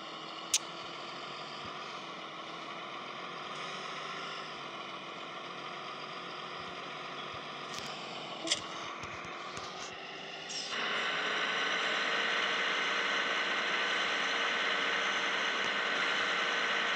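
A tractor engine idles in Farming Simulator 18 with a steady low hum and faint clicks. Partway through it shifts to a louder, brighter drone that holds to the end.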